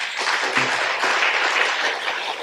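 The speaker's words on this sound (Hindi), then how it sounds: "എല്ലാവരും ഒരു കൈയൊക്കെ വെച്ചിരിക്കുന്നവരെ കൈയൊക്കെ എടുത്ത് നന്നായിട്ട് കൈയടിച്ച്." Audience applause fills a class hall during a noon session, a dense steady wash of many hands clapping together for a couple of seconds at an even level.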